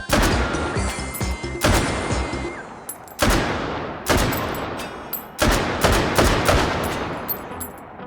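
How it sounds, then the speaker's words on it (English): Rifles from the World War II era fire in the VR shooting game H3VR, loud and close. Several separate bursts of cracking shots each trail off into echoing decay, and no one speaks. "So let's do some long-range shooting this time"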